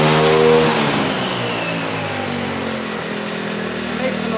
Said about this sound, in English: lots of turbo sound.